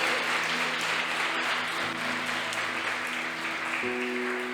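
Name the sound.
church congregation applauding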